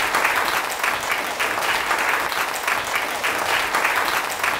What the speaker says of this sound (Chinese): 好，我们掌声欢迎唐圣峰给我们的演讲，谢谢。